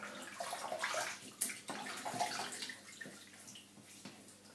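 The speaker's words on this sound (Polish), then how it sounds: "Zwilżę twarz" Water splashing close by as hands wet a face before shaving, with irregular splashes and drips over a steady running-water wash throughout, and no talking.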